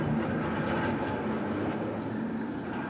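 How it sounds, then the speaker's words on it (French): A vintage tram departs along the local light railway at Thuin, giving a steady, moderate rolling rumble with faint wheel noise throughout. "Départ du tram pour l'Aube, en voiture."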